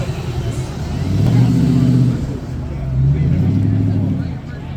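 A ProCharged Saleen S281 supercharged Ford Mustang Cobra idles and revs nearby, its deep engine note swelling twice in a loud, rising and falling pattern, with a voice talking over it at times.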